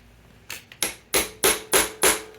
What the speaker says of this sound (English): seat the bit, turn it, give it a couple, 2, 3 whacks